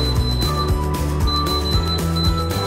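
An electronic alarm on a Viet Tiep electronic safe, triggered after wrong codes are entered, rings loudly and continuously with rapid pulsing electronic beeps and a steady high whine, close by with no talking.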